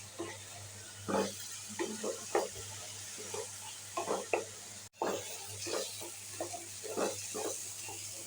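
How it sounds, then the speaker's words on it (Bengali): Masala being stir-fried with a little water in a pan for chole, with a steady low sizzle under repeated scraping and stirring strokes, close and moderately loud, with a brief break midway. "একটু সামান্য জল দিয়ে দিচ্ছি ভালো করে কষিয়ে নিচ্ছি"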